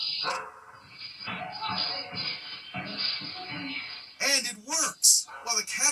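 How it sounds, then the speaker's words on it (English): A dog barks in several loud, close bursts toward the end, reacting to an intruder in a home, after a stretch of talking with no barking. "Why is this dog getting all worked up?"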